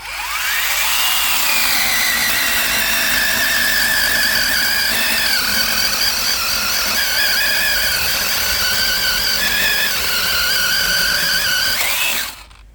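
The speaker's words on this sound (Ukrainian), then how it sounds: "абсолютно нормально розпиляло без напряга таку товщину дерева" A counterfeit Makita cordless chainsaw whines loudly and steadily for about twelve seconds, its high-pitched motor straining as it cuts through wood, then stops abruptly.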